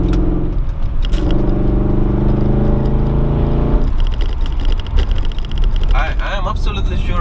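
An Audi Allroad 4.2 C5 V8 pulls hard from inside the cabin, its engine note climbing under acceleration, then easing off before building again, while someone talks over it.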